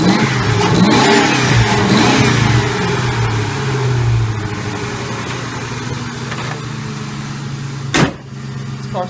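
A loud car engine with aftermarket exhaust, heads, exhaust manifold and cold air intake revs up and down with a throaty exhaust rumble, close by, then settles to a lower idle after a sharp thump.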